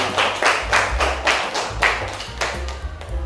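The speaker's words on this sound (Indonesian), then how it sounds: "Yuk, tepuk tangan semuanya." A school class clapping hands together in rhythm, about a dozen sharp, fairly loud claps in a steady beat, close by, with low background hum.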